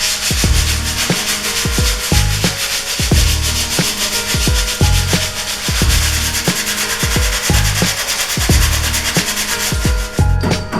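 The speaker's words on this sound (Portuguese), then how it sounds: "já passei a massa, ela já secou, está no ponto de lixar, vou lixar para depois fazer o envelopamento" Dried putty on a piece of furniture is sanded in brisk, rhythmic strokes, each pass a loud, close, gritty rasp repeating steadily for about ten seconds.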